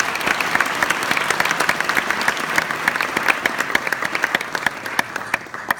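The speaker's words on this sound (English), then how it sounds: "give yourselves a round of applause" Sustained applause from an audience at a college-prep keynote event, dense steady clapping throughout with no talk over it.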